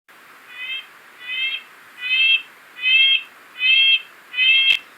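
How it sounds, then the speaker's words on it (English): Red-breasted nuthatch nasal calls played from a recording, six evenly spaced toy-horn-like toots growing slightly louder, clear and close with no talk. "This is the red-breasted nuthatch."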